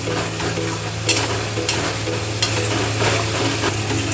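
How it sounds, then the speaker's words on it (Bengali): Potato and paneer dum with coriander paste being stirred in a pan, a steady low sizzle with soft scraping strokes and a few light clinks of the spoon, close and continuous with no talk. "এবার এটা দিয়েও ভালো করে সব মিক্স করে নেব।"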